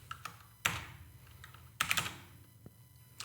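Keys tapped on a computer keyboard while entering terminal commands, a few scattered light clicks followed by two sharper bursts of keystrokes, close and fairly quiet with no talk.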